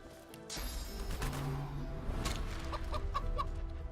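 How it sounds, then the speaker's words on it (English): A chicken clucking in Divinity: Original Sin 2 after a rat is turned into a chicken, a short burst of several clucks and squawks that stands out over the game's soft music and ambience. "Now the rat's a chicken."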